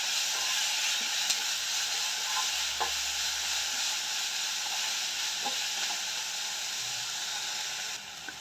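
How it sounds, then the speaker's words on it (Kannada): Grated carrot fries in a pan with a steady, close sizzle and hiss, broken by a few faint clinks of stirring. "ಕ್ಯಾರೆಟ್ ತುರಿ, ಇದು ಚೆನ್ನಾಗಿ ಫ್ರೈ ಮಾಡ್ಕೊಳ್ಳೋಣ."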